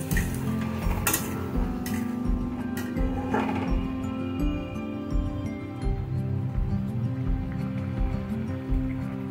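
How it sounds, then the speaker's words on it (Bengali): Fried eggs stirred into a simmering curry in a pot, repeated scraping and clinking of a spoon against the metal at a steady rhythm over a low bubbling sizzle, close by with no talk. "ভেজে রাখা ডিমগুলো দিয়ে দেবো, দিয়ে সুন্দর করে মিশিয়ে দেবো।"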